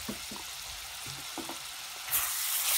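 Fish curry masala with turmeric in a pan for a coconut-milk fish curry gives a soft, continuous sizzle with low stirring scrapes, and the hiss swells louder toward the end.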